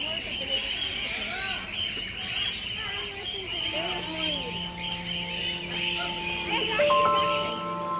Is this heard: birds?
yes